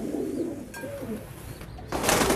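Pigeons coo softly from a rooftop coop that holds eggs and young squabs, with a short burst of hissing spray near the end.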